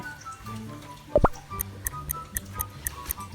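A regular clock-like ticking, sharp clicks repeating about every quarter second over soft background hum, after a brief knock.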